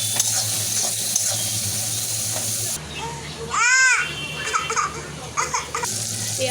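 Onion and tomato fry with salt and turmeric in a pan for chicken kosha, a steady close sizzle with stirring scrapes, a brief whistling tone partway through and faint children's voices in the background.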